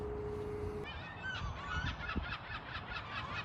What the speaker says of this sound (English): I thought they were geese.